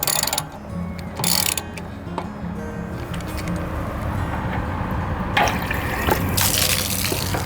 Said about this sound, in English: So just pull this pressure release valve and stand back.